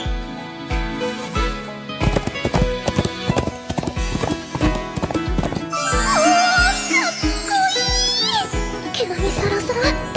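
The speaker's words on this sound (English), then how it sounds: "Leston whistles, and a horse comes running towards them." Rhythmic hoofbeats clip-clop steadily as a horse approaches, joined by music and high whinnying or squealing calls in the second half.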